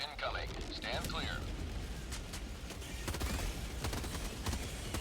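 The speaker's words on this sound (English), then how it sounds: "Orbital barrage incoming." An orbital barrage pounds the ground in Helldivers 2, a dense, continuous roar of heavy explosions and booming rumble under intermittent gunfire, with voices speaking through the din.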